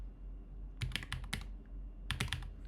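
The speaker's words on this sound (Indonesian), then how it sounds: "Oke, kita diminta untuk ketik netstat." Keystrokes on a computer keyboard entering the netstat command in a Linux lab, two quick clusters of crisp clicks separated by a brief pause over a low background hum.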